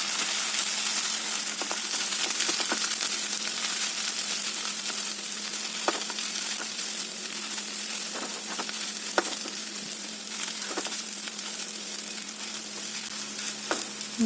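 Prawns coated in ground masala paste stir-fried in a pan for a Kerala prawn thoran, a steady close sizzle with occasional spoon scrapes and clinks throughout, no voices.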